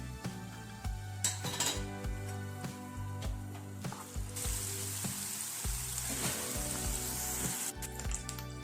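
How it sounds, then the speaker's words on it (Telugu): Ginger garlic paste sizzles steadily in hot oil in a pan, with occasional spoon scrapes and clinks against the pot as it is stirred. "ఇప్పుడు ఇదే నూనెలో కొంచెం అల్లం వెల్లుల్లి పేస్ట్ ఒక పెద్ద స్పూన్ రెండు స్పూన్లంత అల్లం వెల్లుల్లి పేస్ట్ అండి వేసుకొని బాగా పచ్చివాసన పోయేదాకా వేగించుకోవాలి"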